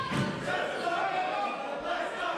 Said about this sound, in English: You can hear the Aussie crowd back in their boy